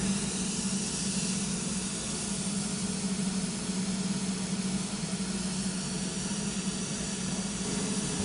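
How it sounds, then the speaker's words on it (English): Aeroseal sealant mist hisses steadily through residential ductwork, a continuous airy spray with a low blower drone beneath, unbroken and even from start to finish, with no talking. "In a minute, you'll hear the mist start coming through the system."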